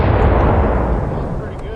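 Spanish mountain howitzer fired outdoors, a loud heavy boom with a broad rumbling tail that slowly fades over a couple of seconds.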